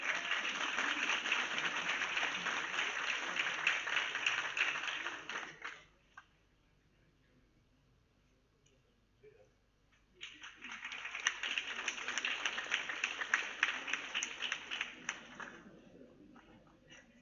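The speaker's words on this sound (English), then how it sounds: "A big round of applause, ladies and gentlemen." An audience at a World Environment Day award ceremony applauds in two sustained bursts of dense clapping separated by a few seconds of near silence, the second swell slightly louder and crisper.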